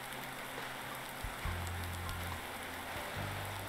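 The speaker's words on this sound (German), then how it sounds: "Das ist ja auch bei Regenwetter." Steady rain in Farming Simulator 19, a dense even hiss of drops pattering on surfaces, with a low engine hum of a farm vehicle underneath and no voices.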